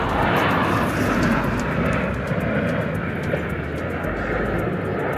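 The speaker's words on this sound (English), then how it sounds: "flying planes. I don't know why they just keep moving around." Steady, loud roar of an airplane passing overhead throughout, a continuous broadband engine drone over an outdoor street in Lincoln, UK, with no talking.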